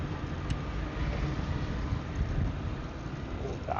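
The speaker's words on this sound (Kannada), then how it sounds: "ಗಾಳಿ ಬೇರೆ ಬೀಸ್ತಾ ಇದೆ" Wind buffeting a motorcycle vlogger's microphone on a DJI camera setup, a steady, close, rumbling roar that fills the whole clip with no pauses.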